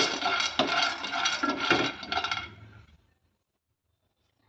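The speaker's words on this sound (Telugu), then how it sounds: "ఈ ప్యాన్లోకి కొద్దిగా పల్లీలు తీసుకుంటున్నాను నేను." Peanuts tumble into a pan for dry roasting as part of a tiffin-centre chutney, a dense rattling clatter of small hard nuts on metal lasting about three seconds before fading to silence.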